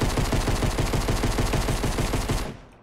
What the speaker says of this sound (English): I'm trying to shoot out this base.